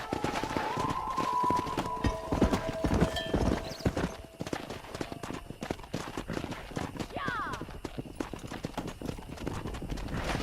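Horse hooves gallop in steady clip-clop rhythm across open ground in the Xbox 360 game Red Dead Redemption, with a brief whinny and someone talking over the hoofbeats amid ambient game sound.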